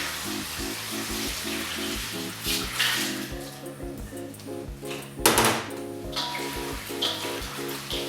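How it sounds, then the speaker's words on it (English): A gallon of water poured into a kimchi kit container makes a steady rushing splash over several seconds, partly masked by background music. "Next thing is we're going to grab the gallon of water and pour that in."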